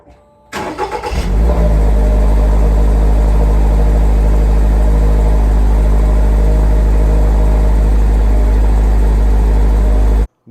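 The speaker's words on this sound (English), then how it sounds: "This is the Akrapovic exhaust, guys, with the red carbon fiber cover." A Toyota GR86 fitted with an Akrapovic exhaust under a red carbon fiber cover starts up loudly, then settles into a steady, deep idle close by, alone with no talking, before cutting off.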